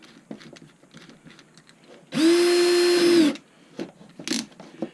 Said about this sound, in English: I got my cordless drill.